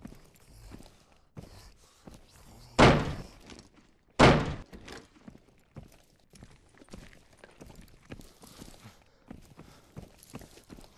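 A door swung open in the tactical shooter Direct Contact, two sharp loud thuds close together near the start, with soft footsteps and light scuffling continuing quietly around them.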